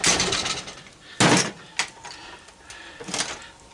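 A hammer striking scrap brass pressure release valves, a few sharp metallic knocks at uneven intervals, the loudest near the middle, close up and with no speech.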